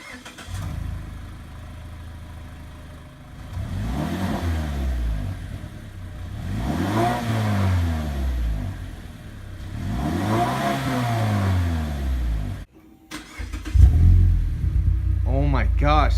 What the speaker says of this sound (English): So now we're gonna do a clip of the cold start and the rev.